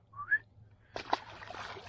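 A person whistles a short rising note near the water after releasing a fish from a boat, followed by splashing and sloshing sounds.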